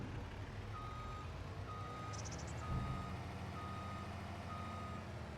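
A tractor backs up in Farming Simulator 25, its reversing alarm beeping in steady evenly spaced tones over a low idling engine hum, fairly quiet and with no voices.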